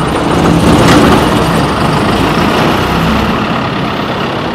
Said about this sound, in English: I want to hear what a street sweeper sounds like when it's on. We're going to start the rear motor first.